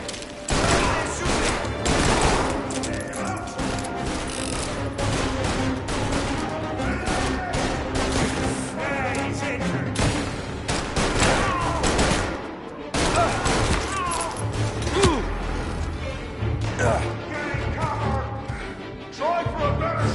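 Rapid gunfire bursts and crashes from the Mafia Definitive Edition video game run almost continuously at close range, with music and shouted voices mixed underneath.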